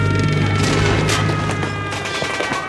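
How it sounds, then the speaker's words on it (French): A loud burst of explosion-like crashes and booms during a wartime raid by German soldiers on a French village, a dense noisy blast followed by a decaying rumble, with a steady low hum underneath throughout. "Ça ressemble à une explosion."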